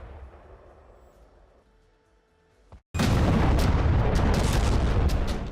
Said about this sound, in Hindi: यहां बैक टू बैक कई धमाकों के बाद मशरूम क्राउड दिखा